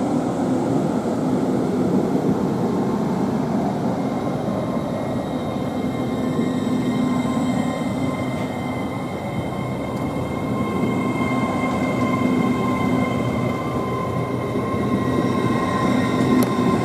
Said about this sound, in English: now departing is 800-204 with the service to Lincoln